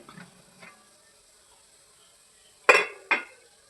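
The metal lid of a steamer pot holding banana-leaf ada is lifted off, giving two sharp clanks near the end after faint earlier clinks, with no talking.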